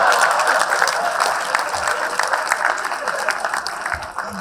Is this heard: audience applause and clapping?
yes